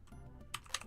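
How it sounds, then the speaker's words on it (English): Computer keyboard typing at a terminal, a couple of quick crisp keystrokes close by over a low background hum. "It's good practice in typing."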